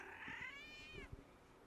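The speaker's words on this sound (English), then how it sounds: "Y'all hear that cat? I hear a cat." A cat lets out a single drawn-out meow that rises and then falls away, fairly faint as if from another room, followed by a couple of soft low thumps.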